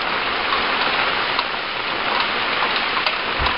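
Heavy rain pours steadily onto an umbrella during flooding beside a garden and chicken coop, a dense, constant roar of drops with occasional louder taps close overhead.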